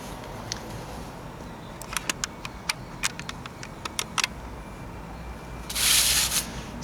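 Vaseline-soaked cotton balls being pulled apart by hand on a rooftop, giving soft faint rubbing and fibrous tearing with a run of small sharp ticks and one louder burst of ripping near the end.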